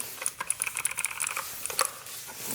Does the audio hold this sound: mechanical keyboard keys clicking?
yes